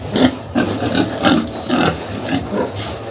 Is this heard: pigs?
yes